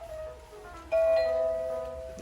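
Home doorbell in a London flat sounding two tones, a lower chime followed by a brighter, louder one that rings on and fades slowly, heard alone in a quiet room.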